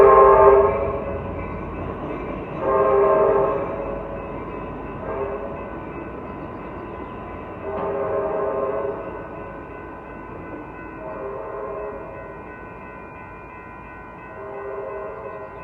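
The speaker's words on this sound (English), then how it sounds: "F-59 PHI unit leading the Amtrak train, the Capital Corridor heading east on Brocadero" An Amtrak Capitol Corridor train led by an F-59PHI locomotive passes eastbound along Broadway in Oakland near Jack London Square, its horn blowing in several long loud blasts over steady rumbling rail noise.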